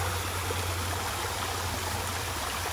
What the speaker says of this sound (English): Sorry if the waterfall makes you need the toilet.